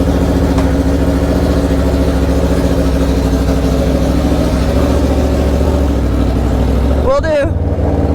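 Aprilia RSV4 1100 Factory, lowered, with an SC Project exhaust, holds a steady loud engine drone through the whole stretch, with a short rising-and-falling rev sweep near the end.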